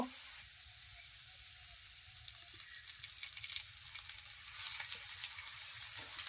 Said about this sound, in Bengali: আমি আর একটু তেল দিব